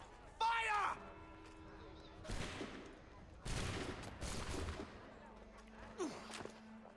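In Assassin's Creed 3, a shouted command is followed by several loud bursts of musket volley gunfire, ragged and spread over a few seconds, with voices and breathing between the shots.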